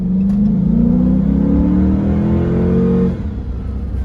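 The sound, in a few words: Chrysler 300 S car accelerating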